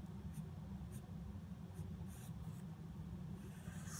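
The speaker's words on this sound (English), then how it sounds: "So the next part is going to be the joy of tracing repeatedly." A pencil traces a drawing onto paper for transfer to a printmaking plate, a faint scratchy scribble over a low steady background hum.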